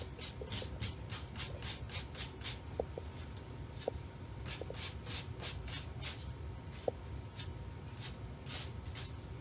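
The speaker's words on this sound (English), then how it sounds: "When you sand, you want to just sand down away from your piece when you're taking off your edge." Sandpaper rasps against the edge of a decoupage piece in a quick run of even, rhythmic strokes, close and fairly quiet, with a few small taps between them.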